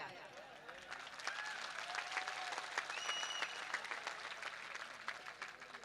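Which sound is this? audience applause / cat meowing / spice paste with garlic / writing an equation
audience applause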